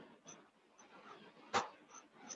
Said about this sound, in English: You're going to hear a little yelping. That's one of my doggies having a bad dream.